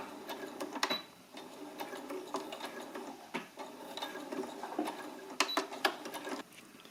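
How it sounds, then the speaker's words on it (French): A sewing machine stitches fabric pieces right side to right side along a fold line, 1 cm from the edge, giving a steady close mechanical whirr with rapid ticking needle strokes and occasional louder clacks, no voices. "On vient coudre à 1 cm du bord."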